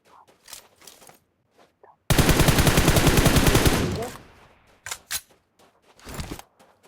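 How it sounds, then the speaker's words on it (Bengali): Automatic gunfire from the video game BGMI plays as a loud sustained burst of rapid shots lasting about two seconds, with scattered single shots and speech before and after. "ফায়ার দিলি কেন?"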